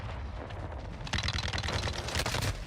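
Rapid bursts of automatic gunfire in Call of Duty Warzone 2, starting quieter and then growing into dense, loud, continuous shooting with no talk over it.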